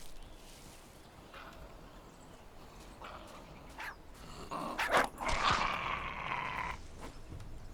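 A dog in the survival video game Shipwrecked gives a few short barks and yelps in the middle and latter part, moderately close, over a low game ambience.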